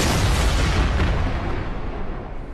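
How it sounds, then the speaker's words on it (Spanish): A Naruto video game explosion bursts out as a loud, dense roar that rumbles and slowly fades over a couple of seconds. "esa explosión se ve bacana"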